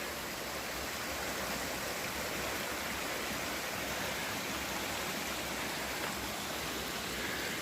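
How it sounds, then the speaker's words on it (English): A small babbling brook feeding North Cheyenne Canyon Creek runs steadily beside a trail near an aspen grove, its broad, continuous rush of water close and even throughout with no voices. "Nice little babbling brook off to our side. One of the tributaries that feed North Cheyenne Canyon Creek."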